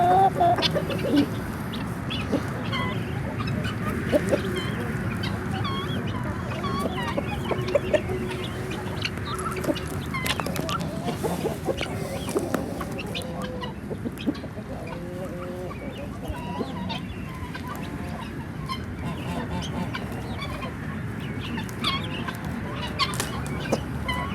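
Guinea fowl calling in a poultry yard alongside a rooster and pigeons, loud repeated harsh cries and clucks that carry on steadily throughout, close by over a busy farmyard background.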